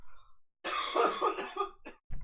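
A person close to the mic gives a drawn-out, rough cough lasting over a second, followed by a couple of shorter hacking bursts, in a quiet setting with a faint sound just before.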